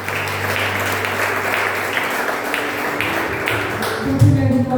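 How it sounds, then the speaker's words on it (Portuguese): Church congregation at a retreat service clapping hands together, a sustained wash of applause with a low tonal hum underneath and a brief thump near the end. "Palmas para o Senhor Jesus."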